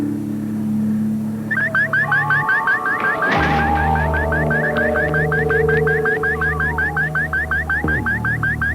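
A sci-fi outpost's perimeter alarm goes off after something strikes the fence: a rapid, repeating electronic warble with a loud impact at the start, sustained and loud alongside low tonal hums, with no talk.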